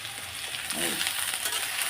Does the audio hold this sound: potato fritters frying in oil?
yes